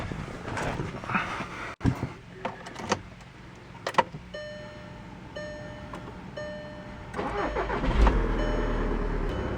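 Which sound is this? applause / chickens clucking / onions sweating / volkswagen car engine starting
volkswagen car engine starting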